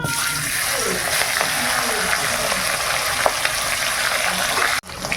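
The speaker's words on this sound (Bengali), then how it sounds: "এবার মুড়ো দুটো আর লেজাটা ভেজে নিই" Fish heads and a tail fry in hot oil in a home kitchen, giving a loud, steady sizzle with small crackles and stirring, broken by a brief clatter near the end.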